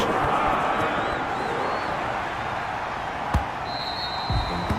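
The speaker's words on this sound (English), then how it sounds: "The crowd getting into it as we come up on a big 3rd down." A steady wash of stadium crowd noise fills a Madden 21 football game, loud and continuous, with a couple of brief thumps near the end.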